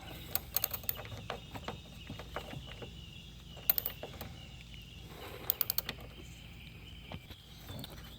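Ratchet wrench loosening a 10mm bolt in the engine bay of a 2013-2016 Dodge Dart, heard as bursts of quick metallic clicks separated by pauses, fairly faint and close, with no voices.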